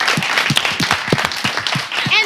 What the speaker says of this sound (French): On va applaudir pour que son cœur soit dur.